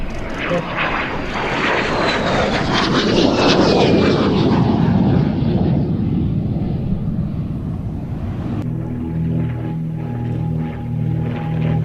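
A de Havilland Vampire jet with its Goblin engine roars past at an air display, loud and sustained, a high whistle sweeping downward as it passes, followed by a steadier drone.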